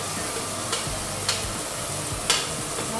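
Ground spice paste for Indian curry frying in a pan, with a steady sizzle and a few scraping strokes of stirring, close and fairly loud with no talking.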